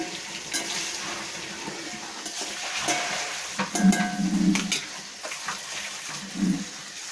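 Oil sizzles and crackles steadily as dried nagara fish fries, with occasional stirring clatter and a few louder bursts of spattering, close by with no talking.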